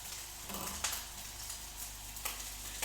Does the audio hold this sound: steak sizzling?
yes